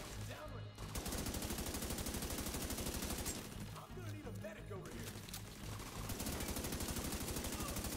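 Rapid bursts of automatic gunfire crackle in The Division 2, a co-op shooter game, with repeated volleys and short pauses between them.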